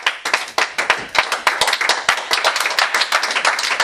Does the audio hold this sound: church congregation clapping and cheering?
yes